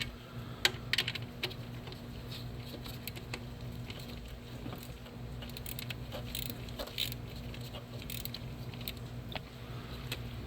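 Ratchet wrench tightening a 12 mm bolt on the alternator of a Kia Soul 1.6L, a fast run of close, light clicking with a steady hum underneath and no talking.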